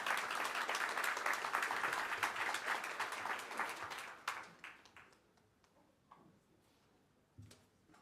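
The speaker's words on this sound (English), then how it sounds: "If you could please give her a round of applause." An audience at an Economic Club of Miami event for a Federal Reserve Board governor claps: dense, loud applause fills the room, then thins to scattered claps and fades away.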